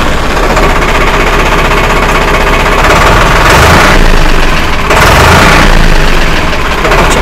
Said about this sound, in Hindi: तो चलिए इसको स्टार्ट करके इसका आवाज सुनते और इसका स्टीयरिंग रिस्पांस भी देख लेते हैं।